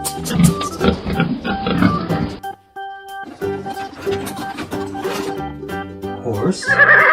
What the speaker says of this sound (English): Horse. A white horse with a gray tail.